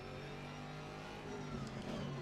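A race car engine from Assetto Corsa Competizione drones steadily at mid pitch, then rises slightly as it revs toward the end, heard close and continuous with no voices.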